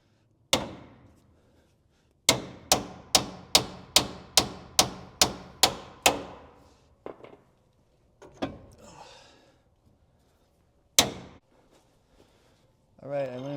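A heavy hammer pounds a lift kit part on a Jeep Gladiator, with one blow, then a rapid run of about nine evenly spaced metallic strikes, a few scattered knocks and a final hit, close and loud, with a voice at the end.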